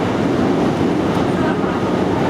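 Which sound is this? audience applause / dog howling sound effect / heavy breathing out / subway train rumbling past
subway train rumbling past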